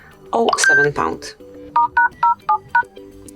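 Keypad tones from a Google Pixel 6 entering a secret dialer code, heard as five short, even dual-tone beeps in a steady rhythm after a brief stretch of talk.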